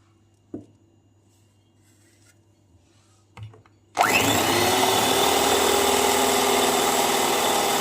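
An electric beater whirs to life after a couple of soft knocks, beating ice cream icing mixed with filling into a batter for Butterscotch ice cream, a loud, steady, close motor hum that runs unbroken to the end.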